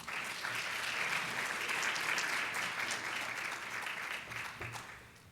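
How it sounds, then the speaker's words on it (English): A room of attendees at an educational leadership event applauds as a speaker walks to the podium. Steady, moderately faint clapping that tapers slightly toward the end, with no talk over it. "please give her a round of applause as she comes to the podium"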